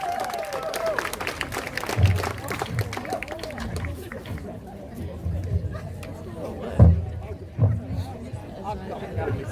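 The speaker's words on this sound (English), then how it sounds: "Give them another round of applause." A rally crowd applauds a band in Lismore; scattered clapping mixes with loud crowd chatter and nearby talking, with sharper bursts of claps standing out now and then.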